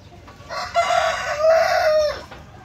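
A farm rooster lets out a single loud, close crow lasting about a second and a half.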